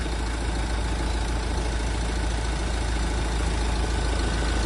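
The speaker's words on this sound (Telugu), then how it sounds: "ఆల్రెడీ ఇంజన్ స్టార్టింగ్లో ఉంది" A 2019 Mahindra Scorpio S11 diesel engine idles smoothly and steadily up close, a constant low rumble with no revving or other sounds.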